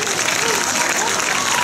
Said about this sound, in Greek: ένα δυνατό χειροκρότημα